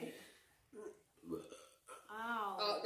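Several people taking part in a burping challenge, voices laughing and talking through a short burst that includes a burp, close and fairly quiet.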